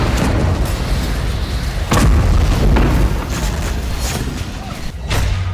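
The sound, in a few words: explosions in West Bank fighting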